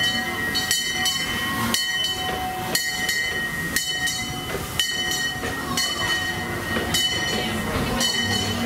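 Disneyland Railroad train at Disneyland Paris rolling out of Main Street, USA, a steady loud rumble with rhythmic clickety-clack wheel beats about once a second and a faint ringing tone above.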